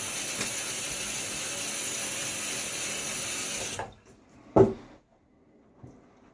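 A bathroom tap runs steadily into a sink to rinse a Blackland Dart safety razor, a constant hiss that cuts off partway through, followed by a brief clack and near silence.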